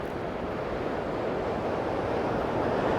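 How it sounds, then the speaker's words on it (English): A small waterfall on the Firehole River in Yellowstone National Park, a steady broadband rush of falling water with some wind, continuous and fairly close, no voices. "Like this small falls right there."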